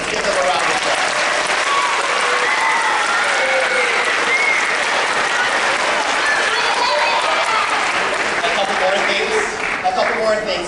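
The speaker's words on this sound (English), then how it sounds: "Let's give them a round of applause." Audience applause at a 4th grade school winter concert, a loud, sustained round of clapping from a crowd that fills the room for the full length without letup.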